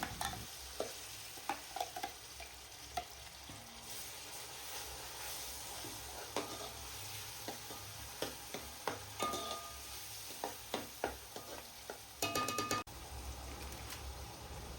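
Fish frying in a pan with ground onion masala paste, village-style cooking, heard as a steady sizzle under frequent sharp clicks and scrapes of a spoon stirring, close and moderately quiet.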